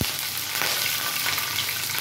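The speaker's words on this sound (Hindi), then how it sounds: "2 चम्मच तेल डाले हैं, 1/2 चम्मच हम डालेंगे जीरा और हम डालेंगे 3 से 4 मिर्ची" Cumin seeds and three or four green chillies sizzle loudly in two spoons of hot oil, a dense, steady crackle close by with no voices.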